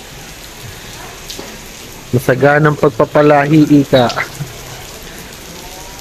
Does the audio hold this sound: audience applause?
no